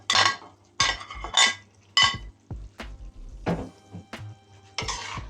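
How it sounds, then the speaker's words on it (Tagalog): Eggplant going into a gently simmering pot, then loud clinks and scrapes of a utensil against the pot in irregular bursts, close by with quiet pauses between. "So ngayon, ilalagay ko na po yung ating eggplant."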